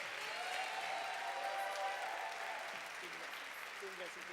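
Audience applause in a church congregation, a steady dense wash of clapping at moderate level throughout, with a voice and a faint tone surfacing under it near the end.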